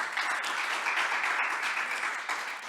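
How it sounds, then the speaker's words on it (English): Audience applause for the Sasol Foundation at a SasolTechnoX 2022 closing keynote, a dense, steady crowd clapping that holds throughout and tapers slightly at the end. "you can clap hands for the Sasol Foundation"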